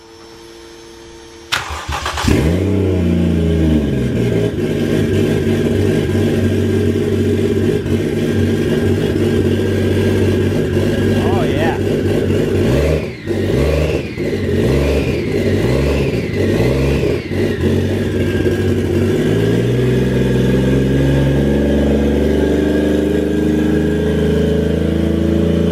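A Toyota 1JZ VVT-i engine cranks and catches after a short quiet start, then runs loud and steady with a rough idle and several revs rising and falling before it settles.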